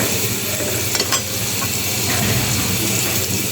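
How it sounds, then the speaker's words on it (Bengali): Water going into a pan of cucumber and hilsa roe curry as it fries. There is a loud, constant sizzle and bubbling hiss, with a few clinks of a utensil against the pan. "এখন আমি জল দিব।"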